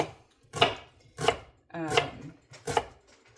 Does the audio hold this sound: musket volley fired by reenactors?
no